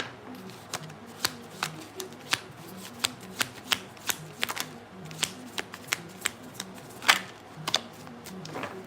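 Tarot cards being shuffled close up: a steady stream of soft riffling and slapping, with sharp card snaps recurring every half second or so over a low background murmur.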